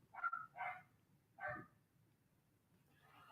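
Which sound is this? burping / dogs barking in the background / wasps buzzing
dogs barking in the background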